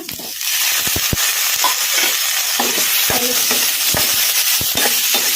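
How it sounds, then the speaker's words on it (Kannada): Chopped tomato frying with onion and green chili in a pan over medium flame, a steady close sizzle broken by scattered sharp scrapes and clicks of stirring, with no voices. "ಟೊಮಾಟೊ ಮೆತ್ತಗಾಗೋವರೆಗೂ ಫ್ರೈ ಮಾಡ್ಕೊಂಬಿಡೋಣ ಮೀಡಿಯಮ್ ಫ್ಲೇಮಲ್ಲಿ"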